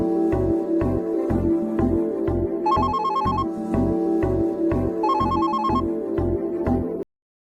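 A landline telephone rings at home in a loud, repeating electronic ring pattern with short bursts and brief gaps, ringing alone for about seven seconds before cutting off abruptly.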